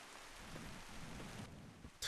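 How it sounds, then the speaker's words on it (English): Rain drums steadily on a car roof in The Long Drive driving game, a dense, even hiss of drops that goes on without a break, with a brief brighter crackle at the very end. "I'm already impressed that the rain doesn't, like, come through the roof, you know?"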